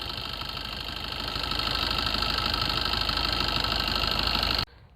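A Maruti Swift Dzire diesel engine idles close by with a steady, slightly knocking rumble that grows a bit louder before cutting off near the end.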